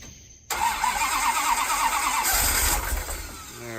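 A Dodge Charger engine cranks and fires up, roaring loudly up close and then settling into a rough idle after a few seconds, with no talking over it.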